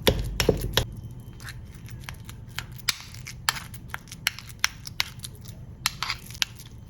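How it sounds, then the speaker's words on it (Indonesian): A spoon repeatedly presses and scrapes through soft, sticky fermented cassava in a bowl, a series of close, wet squishing and clinking taps. "Kemudian tapenya dilumatkan seperti ini menggunakan sendok."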